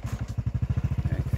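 A motorcycle engine starts and settles into a steady, rapid thumping idle close by, out in hilly orchard country.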